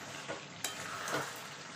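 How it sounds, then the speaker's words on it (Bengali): Mixed vegetable curry with slit green chillies is stirred in a hot pan, a soft steady sizzle broken by a few brief scraping strokes of the spoon, heard close and alone. "এবার ভালো করে মিশিয়ে নেব।"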